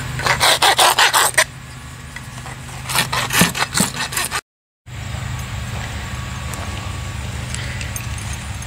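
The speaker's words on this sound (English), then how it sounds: "Now I'm going to take this rasp and clean up the edges and get them nice and smooth." A hand rasp files the edges of a cut PVC piece for a holster in two bursts of fast rhythmic rough scraping strokes, with a steady background hum between and after them.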